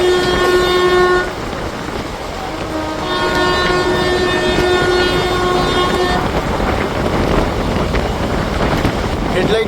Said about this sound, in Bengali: এখন আমাদের দিকে ধেয়ে আসছে train number 12041 Howrah new Jalpaiguri শতাব্দী এক্সপ্রেস